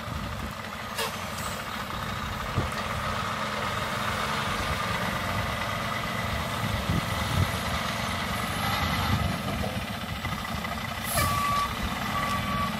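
A truck maneuvers backward during a shipping container delivery, its engine rumbling steadily while faint intermittent reversing beeps sound over the low drone, with occasional air-brake hiss.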